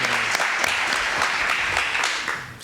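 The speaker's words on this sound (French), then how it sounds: "On peut applaudir Bascour, s'il vous plaît." An audience at a football club event claps, a dense burst of close applause sustained for a few seconds and tapering off at the end.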